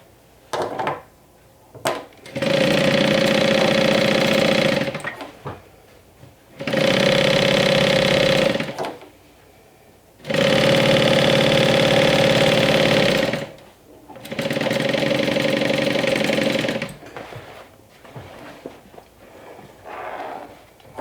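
A sewing machine stitches fabric seams in four long, loud, steady bursts of a few seconds each, separated by short pauses with handling noises.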